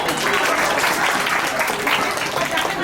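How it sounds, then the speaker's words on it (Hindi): An audience at a religious quiz and bhajan antakshari competition breaks into dense, continuous applause, many hands clapping together at close range for the few seconds heard. "ताली बजाओ पार्टी।"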